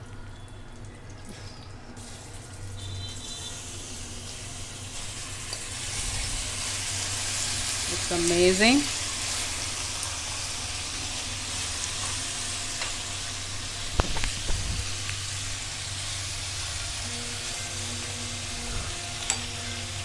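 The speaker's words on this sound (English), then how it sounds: "So as it sizzles, we will add the chicken, which I have been marinating it for some time." Marinated chicken sizzles in hot oil in a pan for a South Indian chicken fry, a steady close crackling hiss with a few clinks and brief speech over it.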